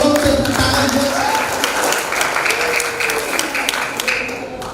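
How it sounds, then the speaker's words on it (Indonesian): Audience applause at a Christmas charity gathering, a steady wash of clapping from a crowd across the whole stretch, with some voices and tonal sound mixed in underneath. "Marilah memberikan satu apresiasi. Tolong tepuk tangan buat"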